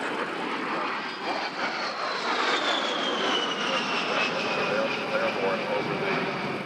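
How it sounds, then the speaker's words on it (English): A KC-135 tanker aircraft flies past at the Selfridge airshow, producing a steady, loud jet roar with a slowly sliding whine. The sound holds for several seconds while an announcer talks over it. "out of the back of that large aircraft, that's the KC-135"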